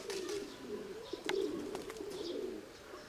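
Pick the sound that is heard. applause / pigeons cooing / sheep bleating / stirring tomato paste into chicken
pigeons cooing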